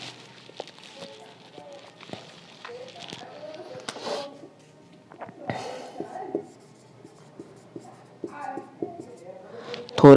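Chalk or marker scratching on a classroom board in short strokes and taps, close by, with a teacher speaking over it at intervals.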